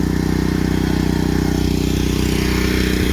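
A gas pressure washer engine runs steadily and loud while house siding is being power washed, a constant droning hum with no talk.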